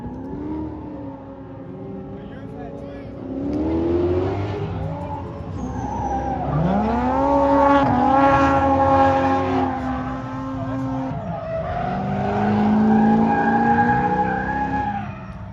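Ford Mustang at a drift day, its engine revving and rising in pitch as it slides and spins out, with bursts of tire skidding, heard up close throughout without talk.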